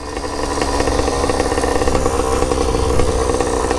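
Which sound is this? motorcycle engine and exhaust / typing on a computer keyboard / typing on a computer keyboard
motorcycle engine and exhaust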